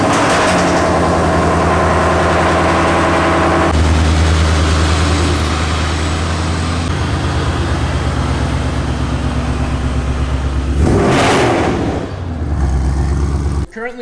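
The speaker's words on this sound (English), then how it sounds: "Let's get a cold start on the freaking Clout Stang." Ford Mustang with a blown transmission cold-starting and running loudly, a steady heavy engine drone with a throaty rise and fall near the end, close to the listener.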